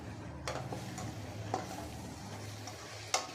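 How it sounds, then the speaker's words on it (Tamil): Bitter gourd pieces stirred in a pan for a tamarind curry, a soft steady cooking hiss with a few sharp scraping clicks of the spoon against the pan, fairly quiet and close. "பாகக்காய் சேர்த்துட்டு நல்லா ஒரு டைம் அப்படியே கலந்து விட்டுறலாம்"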